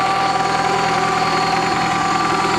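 The original, 200,000-mile engine of a 1987 Toyota Camry idles with a close, steady, clanky chatter and a ticking rhythm under it, and no voice is heard.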